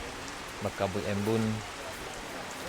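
Steady rain falls outdoors on a cold afternoon along Jalan Bayang, making an even hiss in the background while someone talks over it.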